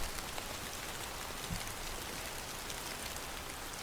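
Rain falls steadily over the water of a bay, a dense, even hiss of drops with no break and no voices, moderately near and continuous throughout.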